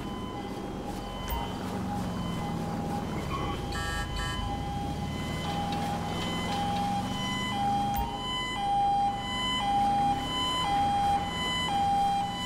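An ambulance siren wails in Grand Theft Auto 5, a steady rising and falling tone over a rumbling vehicle engine, loud and continuous throughout.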